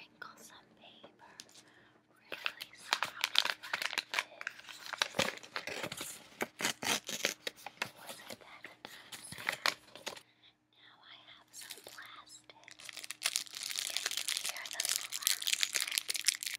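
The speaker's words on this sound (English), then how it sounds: "Now I'm going to crinkle some paper." Paper crinkles and rustles close to the microphone in bursts, with quiet whispering between them and a soft hum underneath.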